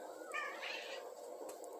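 Cat meowing heard as a short harmonic call near the start, with a second fainter mew just after, over a steady background hum.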